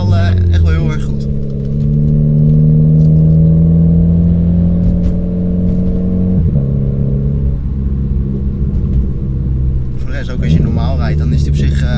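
A Renault Clio IV RS engine accelerating while driving, a steady mid-pitched drone that climbs in pitch, drops briefly and picks up again, loud and close throughout, with people talking over it.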